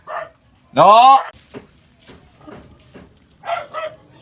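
A dog gives one loud, close bark, followed by a few faint yips, while people talk and call out around it.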